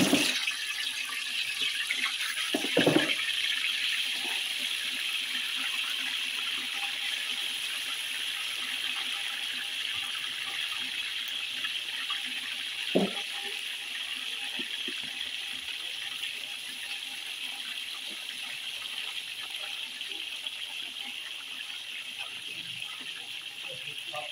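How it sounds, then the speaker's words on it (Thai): Whole fish deep-fry in hot boiling oil for crispy fried fish, giving a steady, close, hissing sizzle that runs without pause, broken by a couple of brief louder pops or spatters. "น้ำมันเดือดแล้วเราก็ใส่ปลาเลยครับผม"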